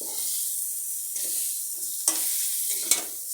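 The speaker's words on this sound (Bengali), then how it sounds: "একসাথেই ডিমগুলি ভাজা হয়ে যাবে" Eggs frying together with onions in a pan, a soft steady sizzle broken by a few sharp stirring scrapes and clicks, close and alone with no talking.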